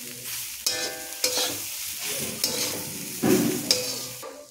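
Spiced masala filling for cauliflower paratha, mixed with chopped coriander, is stirred in a hot pan: soft sizzling under repeated scraping spatula strokes, with a few sharper knocks, close and fairly clear.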